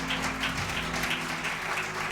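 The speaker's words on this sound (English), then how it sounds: "Come on, give Lynette another round of applause." Clapping from a lecture audience for a speaker at a lecture series event, a soft, distant patter of applause that holds steady through the moment, with faint rhythmic tones underneath.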